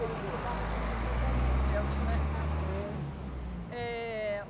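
A truck drives past on a country road during a village tour, a loud low rumble building over a few seconds and holding steady before tailing off, with a brief voice near the end.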